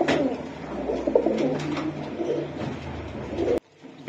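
Pigeons at a bird market, including a flying breed, coo close by in continuous low rolling murmurs for several seconds before the sound cuts off abruptly.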